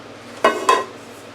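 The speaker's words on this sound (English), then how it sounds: "this is the insert for the pressure cooker" Two quick metallic clanks as the metal insert of a pressure cooker is handled in a kitchen, close and ringing briefly, over a quiet background with no speech.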